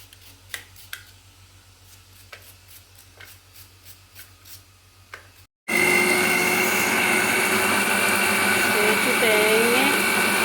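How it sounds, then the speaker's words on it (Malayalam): A kitchen mixer grinder blends grated coconut with fennel seeds. Light ticks and taps come first, then the motor starts abruptly into a loud, steady high whir that runs unbroken to the end. "തേങ്ങ പെരുംജീരകവും കൂടെ അരച്ചു കേട്ടോ"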